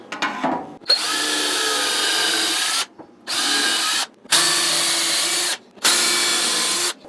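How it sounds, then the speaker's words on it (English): Four loud bursts of power drilling screw holes into wood for a mountain dulcimer case, close by, each whining steadily for a second or two with short silent pauses between. "we're just gonna drill this in a couple places"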